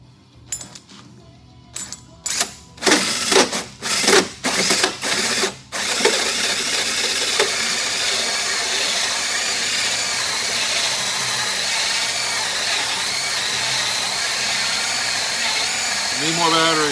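A cordless drill fitted with a hole saw bores through wood for a horizontal bee hive build, opening with short, sharp bursts before settling into a loud, continuous grinding whir.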